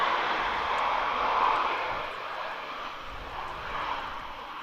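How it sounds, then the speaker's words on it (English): A Ryanair airliner arriving from Alicante touches down on a wet runway at Manchester Airport in wind and rain, a broad, steady roar of engine and spray that swells briefly and eases, heard from a runway-side viewing park. "Ryanair touching down from Alicante"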